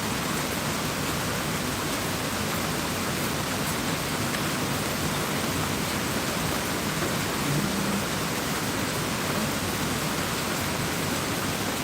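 Heavy rain pours down in a dense, constant hiss, loud and unbroken throughout, with no voices.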